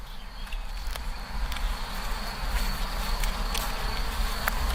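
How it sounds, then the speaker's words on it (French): Honeybees buzzing inside a hive at a rescue colony, a continuous low droning hum close by, steady and dense with a few faint clicks and taps over it and no talk. "ça c'est juste les abeilles de la ruche"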